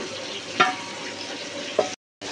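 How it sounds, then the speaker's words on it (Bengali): Chicken pieces frying in butter in a pan, a continuous moderate sizzle broken by two brief utensil clinks as the pieces are turned, then a short dropout to silence before the sizzle resumes. "এই চিকেনের এক পিঠটা ভাজা হয়ে গেছে, আমি একটু উল্টে দিই"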